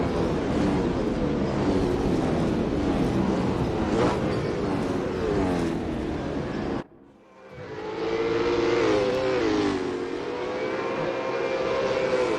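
V8 Supercars race cars at The Bend circuit, a loud tight pack of engines roaring and revving past, with a brief dip before another surge of cars screams by close.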